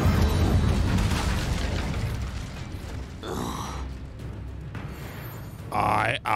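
Hogwarts Legacy spell combat with the Incendio fire spell, a whooshing, rumbling burst of magical fire and booming effects, with a brief swelling whoosh near the end.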